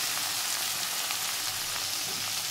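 Tomato with a little salt sizzling steadily in a pan for a Bengali parse fish curry with bori, potato and cauliflower; a continuous, fairly loud frying hiss with no voices.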